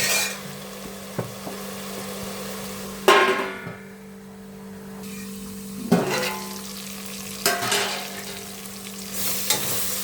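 Tomatoes cooking with salt in a covered pan for avarekalu pulao, a steady low simmering hiss with a few sharp clinks and knocks of the lid or spoon, and no talk.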